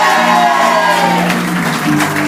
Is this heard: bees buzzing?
no